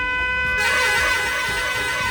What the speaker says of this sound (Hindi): भाई सब अपने हॉर्न बजा रहे हैं देखो